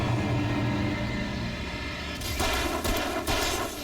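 Several loud, rumbling gunshots from the video game Alan Wake crack out in quick succession over a dense, steady background of game noise, with no talking.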